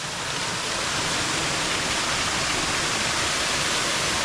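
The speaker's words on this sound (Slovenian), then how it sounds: "To je prvi slapič na potoku Pščak." A small waterfall on the Pščak stream in the Soča valley pours in a constant, loud, close rush of white water, with no voices over it.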